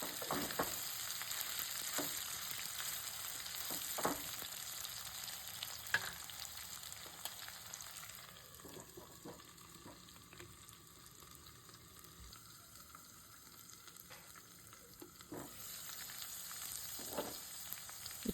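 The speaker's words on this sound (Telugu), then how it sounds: "చికెన్ ముక్కలు గోల్డ్ కలర్లో వచ్చేంత వరకు మనము వేయించుకోవాలి." Chicken pieces fry in a home kitchen pan as they turn golden, giving a soft, steady, continuous sizzle with occasional faint pops and stirring, heard alone at a low level.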